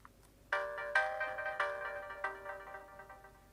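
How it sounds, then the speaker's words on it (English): A SMOOREZ device plays a startup ringtone at boot, a faint melodic series of bright chimed notes that rings out and decays over a few seconds. "And a lovely ringtone to boot us up there."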